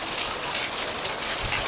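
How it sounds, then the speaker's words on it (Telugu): Very heavy rain pours outside as a dense, roaring hiss, close and loud, with a deeper gush toward the end. "చాలా పెద్ద వర్షం అయితే పడుతుంది."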